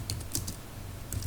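Someone types a C program on a computer keyboard, producing quick, light key clicks in an uneven rhythm. The clicks are close and fairly soft, with no voices.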